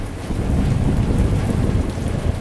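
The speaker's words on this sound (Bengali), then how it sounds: "বাইরে অঝোরে বৃষ্টি পড়ছে।" Heavy rain pounds a hotel's asbestos roof in Kolkata during a thunderstorm, a dense low roar that stays loud and continuous with no voices.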